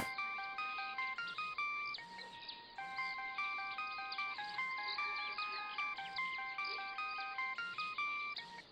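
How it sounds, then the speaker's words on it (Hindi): A mobile phone rings with a bright, repeating ringtone melody of chiming notes that plays steadily throughout at a modest level, heard on its own. "फोन।"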